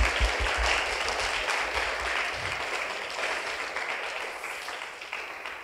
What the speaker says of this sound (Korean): 여러분 다시 한번 큰 박수 보내주시면 고맙겠습니다.